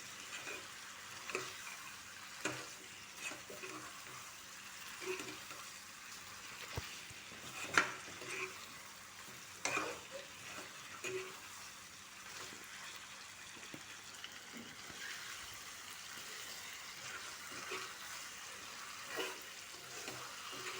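Chopped tomatoes frying in a pan while being stirred, a soft steady sizzle with scattered scraping and clinking of the spoon throughout, fairly quiet and close, no talking, during preparation of goat meat cooked with yogurt.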